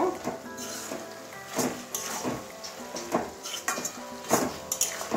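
Cabbage curry with a spoonful of ghee stirred in a pan, with repeated scraping strokes of the spoon against metal over a constant background sizzle, close by.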